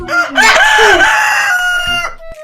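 A rooster crows loudly and close by, one full drawn-out cock-a-doodle-doo call with a rising start and a long trailing end, heard alone without any talking.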